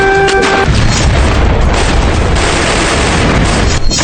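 Heavy booms and rumbling blasts from Hezbollah attacks on Israel roll on continuously and very loud, with a brief high tone at the start.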